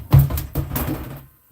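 Household objects knocked over near a heater, a few sharp clattering knocks and bumps in quick succession, close and fairly loud, ending in a brief silence.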